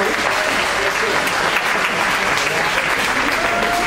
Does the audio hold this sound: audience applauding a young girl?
yes